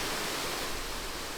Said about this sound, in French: comme cette cascade.